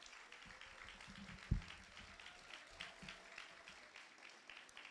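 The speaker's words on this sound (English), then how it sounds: "Keep the applause going," Faint, distant audience applause at a graduation ceremony carries on as a soft steady patter, with a single louder knock near the start.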